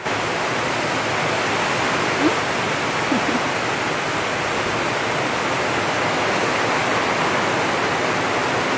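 Heavy rain pours down steadily in the open as people bathe in it, a dense, continuous hiss that holds at an even, close level throughout with no clear voices.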